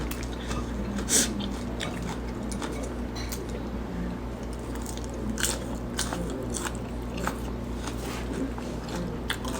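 Crunchy bites and wet chewing of papaya salad with corn, close to the mic, come as a string of sharp crackling crunches over a low, steady background hum.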